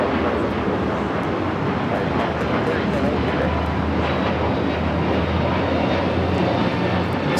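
A United Airlines Airbus A321neo jet takes off at Los Angeles LAX bound for Chicago, giving a loud, steady broadband engine roar that holds throughout with a low rumble underneath.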